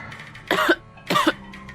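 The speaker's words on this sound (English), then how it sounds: "I started sputtering and coughing." Two harsh, close coughs, evenly spaced about half a second apart, loud against a quiet background.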